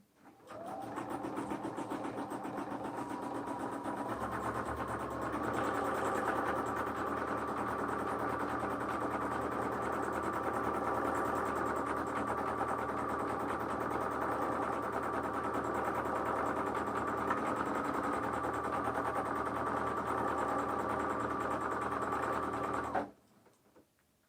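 A sewing machine runs steadily with its presser foot down for about 22 seconds, with a continuous near mechanical hum and rhythmic needle chatter that stops abruptly near the end.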